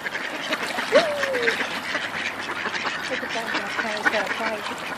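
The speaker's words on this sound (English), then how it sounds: "There's so many ducks. It's a frenzy." A crowd of ducks quacks steadily during a feeding frenzy at a park, overlapping calls near and mid-distance, with a sharper squawk or two standing out.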